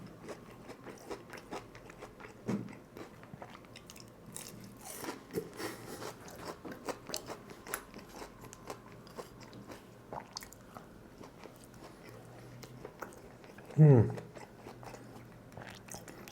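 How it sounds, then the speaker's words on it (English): Shallow-fried shrimp tempura with a breadcrumb or panko-style batter crunches as it is bitten and chewed, with scattered soft bites and one loud close crunch near the end, mixed with talking. "crunch is still here."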